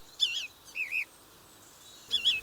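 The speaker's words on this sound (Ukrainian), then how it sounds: "Синиця." A wintering tit gives three short, high chirping calls, two close together and one after a pause, clear and fairly near against a quiet background.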